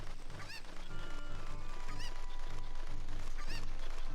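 Chicken clucking in the video game The Legend of Zelda: Ocarina of Time, a few short squawky calls repeating roughly every 1.5 seconds over steady background game music.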